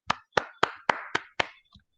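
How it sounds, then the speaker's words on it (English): One pair of hands claps six times in an even, close rhythm, followed by a single faint tap, to close a webinar for teachers. "I would like to give a round of applause."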